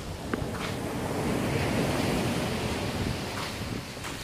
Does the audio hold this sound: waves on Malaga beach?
yes